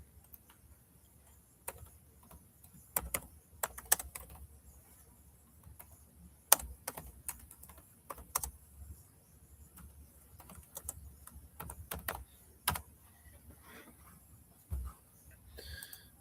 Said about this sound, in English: let me get it typed in